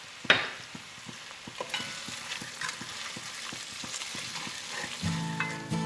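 Salted onion sweats in a pan during goulash preparation after the meat has been seared, giving a soft continuous sizzle with a sharp utensil clack at the start and scraping stir strokes throughout.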